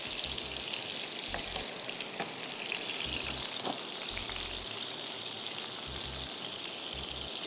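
Hot tadka poured over mutton pulao gives a steady crackling sizzle, like light rain on a surface, running close and even throughout with no talking.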